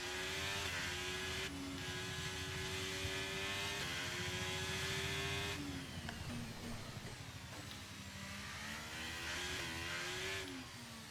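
An engine in a racing video game leaves the pits and climbs through the gears, a loud, close, buzzing whine rising and dropping with each upshift, heard alone without talk.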